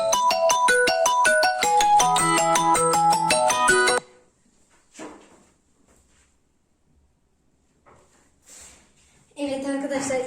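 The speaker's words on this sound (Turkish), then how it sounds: "Ama telefonum gene çalıyor." A mobile phone rings with a melodic electronic ringtone, loud and close for about four seconds, then cuts off; quiet handling noises and a few faint voices follow before the ringtone briefly returns at the end.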